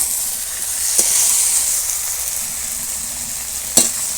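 Pumpkin stem curry cooks in fish oil, giving a steady close hiss and sizzle throughout, with two brief sharp clacks of a utensil against the pan and no talk.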